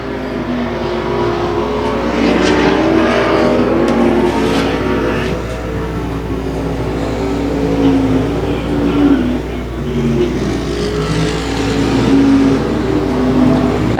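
Race cars roar around a dirt speedway, engines revving and droning continuously as several cars pass at close to medium range, loud and sustained throughout with no voices.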